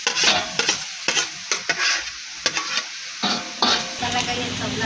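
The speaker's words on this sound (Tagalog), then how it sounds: "Bali po magigisa na po ng sibuyas at bawang." Onion and garlic sautéing in plenty of pork fat for ginisang gulay, a close, loud sizzle broken by repeated scraping stirs of a utensil against the pan, with no talking.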